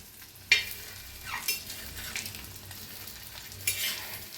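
Eggs fry in a pan with oil, flipped to cook the second side, making a continuous sizzle broken by a sharp spatula clatter at the start and several scraping strokes against the pan.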